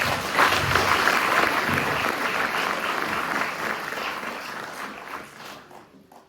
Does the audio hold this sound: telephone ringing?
no